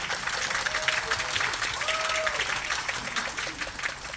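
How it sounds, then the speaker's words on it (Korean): A theater audience claps in a steady, dense wave of applause with faint cheering mixed in during a stage greeting after a performance, close and continuous. "윤대현님 내일도 파이팅하시라고 더욱더 큰 박수와 환성 소리 부탁드리겠습니다"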